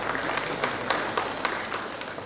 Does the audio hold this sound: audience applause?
yes